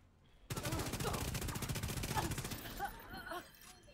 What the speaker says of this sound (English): Where is this guy shooting me from?